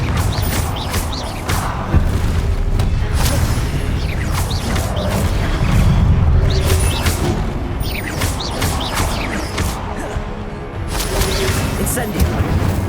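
Spell-casting booms and blasts from the Confringo explosion spell in the game Hogwarts Legacy, a dense run of repeated bursts and crashes over a steady rumbling bed of combat noise, with talk mixed in.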